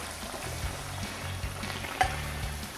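Chunjang black bean paste sizzles and bubbles steadily as it is stir-fried in cooking oil in a pan, with occasional stirring scrapes and no voices.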